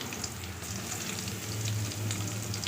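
Garlic cloves fry in hot oil with cumin, chilli and bay leaf, a steady close sizzle and crackle with no voices.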